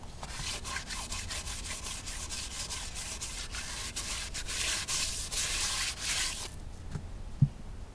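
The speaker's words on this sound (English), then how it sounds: "I'm gonna hit them with some wet sandpaper and just kind of clean them up a little bit" Wet sandpaper scrubs across the brake drums of a 1962 Ford Falcon in quick repeated back-and-forth strokes, close and steady for about six seconds, then stops with a single knock.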